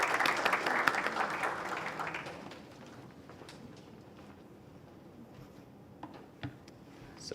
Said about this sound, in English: Let's give a round of applause for Abdurrahman